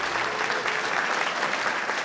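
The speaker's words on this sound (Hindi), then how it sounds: "हमारे जज साहब का जोरदार तालियों से स्वागत करें" Audience clapping to welcome a judge at an event, a thick, steady wash of applause from a crowd, loud and continuous throughout with no speech over it.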